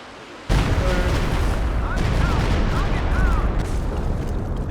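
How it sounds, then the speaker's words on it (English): Stuka rocket barrage in Company of Heroes 2: a loud rumbling onset of heavy booming fire that rolls on continuously, with whistling rocket streaks overhead and sustained battlefield din. "And then we're going to barrage with the Stuka."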